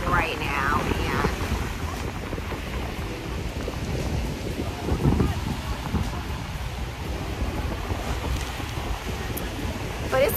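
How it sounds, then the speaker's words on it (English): Strong wind blows outdoors on a sunny, warm day in Saint Martin, buffeting the microphone in a continuous, rushing roar that lasts the whole time with slight gusts. "the wind is winding right now, man"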